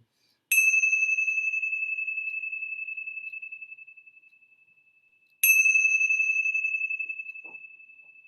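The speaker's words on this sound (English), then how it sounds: "let's begin our time together with the ringing of the bells 3 times." A meditation bell rings at the start of a session, each strike a bright, clear tone that sustains and slowly fades; two rings are heard, several seconds apart, in an otherwise silent room.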